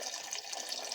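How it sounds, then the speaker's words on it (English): Water pours into a pot of chicken broth, a steady splashing hiss that stays even and fairly faint throughout the short moment, with no talking. "I'm going to add to that just about here, water"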